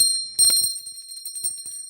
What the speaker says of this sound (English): And then we've got this little bell.